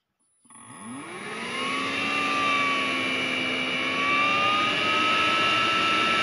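A Planar 44D-12 diesel air heater, set on a table, starts its ventilation fan from silence and spins up into a steady, loud whirring drone with rising tonal whine, holding constant once at speed.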